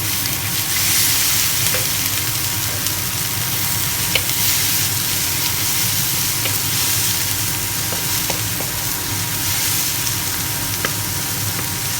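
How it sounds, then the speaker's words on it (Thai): Shallots stir-fried over medium heat in a pan for a chicken curry puff filling, a loud continuous close sizzle with faint stirring scrapes and a few small clicks throughout, no voices. "ผัดหอม ให้หอมสี ออกเหลืองๆนะคะ"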